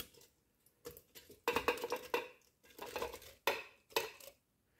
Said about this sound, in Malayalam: നമുക്ക് മിക്സിയുടെ ജാറിലേക്ക് ഈ വാട്ടർ മെലൺ ഇട്ട് കൊടുക്കാം